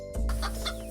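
A cartoon-style hen clucks in a quick run of bright, close clucks over a low steady hum, with no talking.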